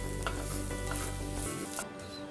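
Grated coconut roasting in a pan over a low-medium flame, giving a steady, close sizzle with faint stirring scrapes throughout, alone with no voices.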